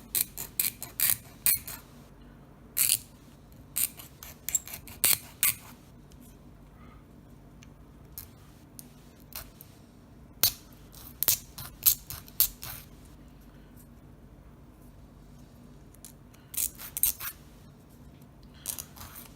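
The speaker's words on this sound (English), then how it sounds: "But on this PLA key, I found that it's easier if you cut it more with this kind of repetitive motion." Close, sharp rasping strokes of a file cutting and smoothing a 3D-printed PLA plastic padlock key, coming in short repeated bursts with brief pauses between them and no talking.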